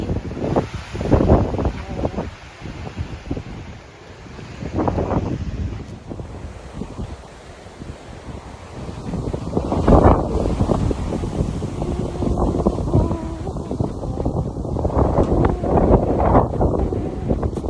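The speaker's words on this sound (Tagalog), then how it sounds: "Oh, sobrang hangin. Super windy." Strong wind at a Blue Mountains lookout buffets the microphone in loud, roaring gusts, with voices talking briefly through it and a rush like water or surf beneath.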